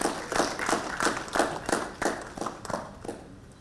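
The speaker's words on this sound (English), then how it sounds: "Big round of applause for Sunil Jain, Operating Partner, Energy Transition, Essar Capital" Audience at an India ESG conference session clapping for a speaker; sparse, uneven claps in a roughly steady rhythm, fairly close and moderately loud, without much crowd wash.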